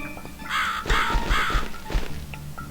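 Three harsh crow caws ring out in quick succession in the horror game The Cat Lady, loud and close over low thudding footsteps and a quiet ambient drone.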